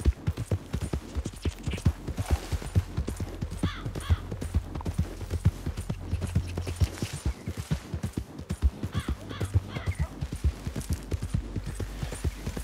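Horse galloping in Red Dead Redemption 2, a fast continuous drumming of hooves on dirt with occasional snorts, steady and close throughout.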